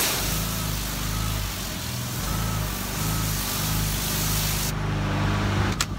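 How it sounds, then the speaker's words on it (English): A hose spraying water steadily over a camper panel during washing, a constant loud hiss with an engine-like hum underneath and no talk. "See how I'm spraying around that panel?"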